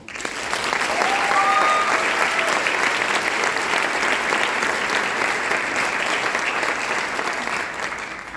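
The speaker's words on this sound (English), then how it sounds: "So please a round of applause for that." Sustained applause from a large audience at a high school band concert fills the space, a dense, even roar of many hands clapping that holds steady for several seconds.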